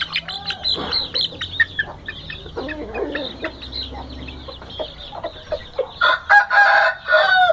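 Hens clucking and month-old chicks peeping nearby, with a rooster crowing and louder squawks toward the end; no talking.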